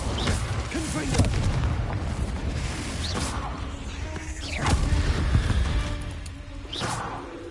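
Hogwarts Legacy Confringo spell blasts booming repeatedly over a steady rumble of game sound, each a sharp whooshing burst at a moderate level.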